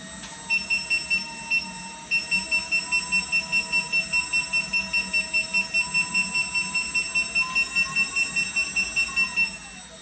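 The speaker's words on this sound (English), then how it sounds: "the receiver also has a high-pitched buzzer" A high-pitched electronic buzzer on a receiver beeps in a rapid, steady series of short pulses for several seconds, loud and close, before stopping.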